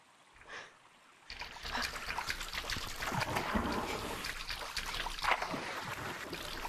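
Rushing, splashing water plays continuously as a character rides a water slide on a beach map in a video game, steady and fairly loud after a quiet start, with a brief faint voice near the beginning.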